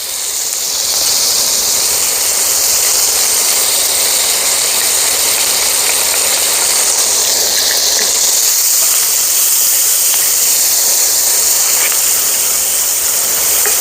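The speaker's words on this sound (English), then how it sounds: "And our jalapeno and a few of the seeds. Let's go ahead and saute these down." Loud, steady sizzling hiss of sliced jalapeno and its seeds sautéing in a hot pan with bacon fat and fond, a dense continuous crackle that holds close and unbroken throughout.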